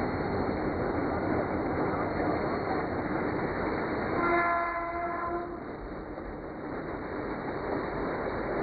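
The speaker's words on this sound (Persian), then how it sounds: "قطار سری و سیر گرگان تهران تا چند لحظه دیگر وارد ایستگاه می شود" Gorgan–Tehran passenger train pulling into a station, a steady rumbling roar throughout with a brief sustained horn blast midway, fairly near.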